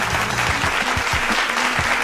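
Short burst of dense, steady clapping from a small group, close and loud for about two seconds, given as a soul clap at a wine review gathering.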